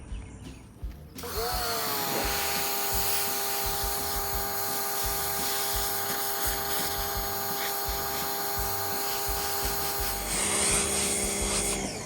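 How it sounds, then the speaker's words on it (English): A borrowed, fairly weak pressure washer blasts old paint off a vintage metal chair, a loud, steady spraying roar with a tonal motor hum that runs unbroken for about nine seconds. "I'm gonna start blowing that paint off with a pressure washer"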